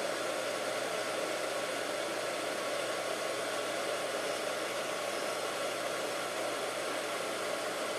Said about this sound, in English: I'm going to start the pump